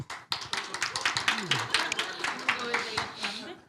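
A church congregation claps in a quick, irregular burst of many hands that fills the room, with a voice speaking over the clapping.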